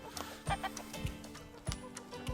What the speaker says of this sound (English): How you doing there, roosters?